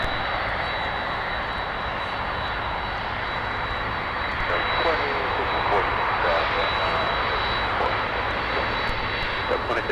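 An Airbus A321neo jet airliner runs at Minneapolis–Saint Paul airport with a steady, distant engine roar and a thin high whine, while radio chatter plays over it.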